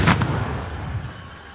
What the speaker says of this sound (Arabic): طلقه البارود الثالثه